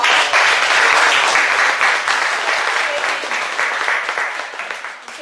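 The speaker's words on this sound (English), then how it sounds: "please, once again, give him a round of applause" An indoor audience gives a guest speaker a loud, dense round of applause that starts strong and gradually fades over several seconds.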